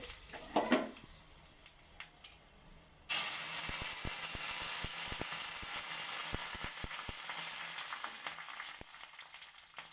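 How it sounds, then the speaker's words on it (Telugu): Dried chillies and spices dropped into hot oil for tempering set off a sudden loud, sustained sizzle after a few quiet clinks, with scattered pops and crackles over a steady hiss, close by and without talk. "ఇదిగోండి, తాలింపు పెడుతున్నాను"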